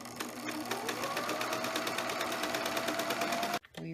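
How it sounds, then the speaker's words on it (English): Sewing machine running steadily while stitching a seam on a Minnie Mouse pillowcase dress, a close, continuous rapid whir with fast even needle ticks that cuts off abruptly near the end. "I'm going to stitch down this one, stitch across here, and then go back up the other side"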